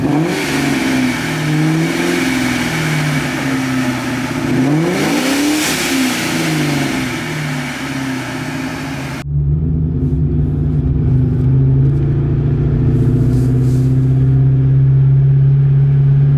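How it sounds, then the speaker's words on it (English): A supercharged Ford Mustang GT idles with a deep, heavy rumble, then revs several times in quick succession, the engine note swelling and falling loudly and close, and settles back into a low, thick idle. "Give her a rev."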